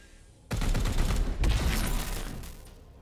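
A sudden burst of rapid gunfire erupts in Warhammer 40,000: Chaos Gate – Daemonhunters, loud and close, with a second volley about a second later before fading into a rumbling tail.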